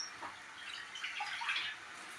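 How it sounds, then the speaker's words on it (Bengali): A small amount of water poured into a pan of catla fish curry, a soft steady trickle and splash heard up close on its own without speech. "তো আমি সেজন্য অল্প এতে জল দেব।"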